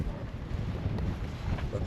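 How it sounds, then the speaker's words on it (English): Strong wind gusts buffet the microphone outdoors in a boatyard during a yacht rebuild, a dense low rumble that churns steadily through the short stretch. "It is a crazy windy day."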